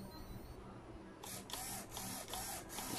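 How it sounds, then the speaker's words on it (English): An RC crawler's servo and electric motor run on battery power, giving a faint steady whir followed by a series of five short, regular buzzing pulses close by. "and also the motor is running"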